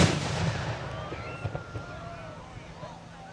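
A Fourth of July fireworks burst at a village celebration opens with a loud boom that fades into a rumbling decay, followed by faint distant pops while people talk nearby.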